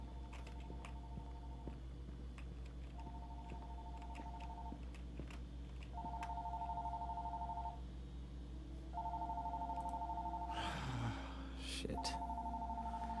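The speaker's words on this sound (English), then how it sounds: "That's my phone?" A phone rings in a video game scene, repeating steady electronic tones in evenly spaced bursts over a constant low hum, with a brief clatter near the end.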